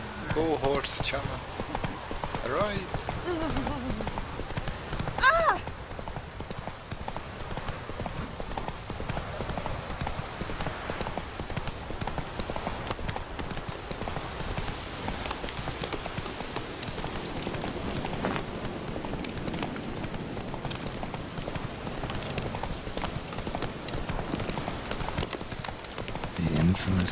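A horse gallops in The Witcher 3, its steady clip-clop hoofbeats running continuously at moderate loudness alongside in-game ambience and occasional background voices.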